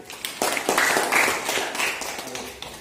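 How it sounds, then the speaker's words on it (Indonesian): Students in a physics classroom clap for a classmate, a short, moderately loud burst of scattered hand claps that swells and then tapers off within a few seconds. "Tepuk tangan dulu untuk Wahyu."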